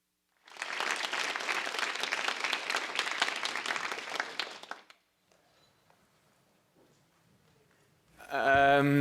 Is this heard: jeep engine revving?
no